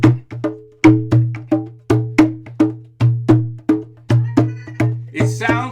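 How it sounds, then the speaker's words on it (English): A small djembe drum is struck in a steady hand-played rhythm, about two dozen sharp resonant beats with deep booming tones, close and loud with no voices. "with my small djembe drum, I will play a rhythm"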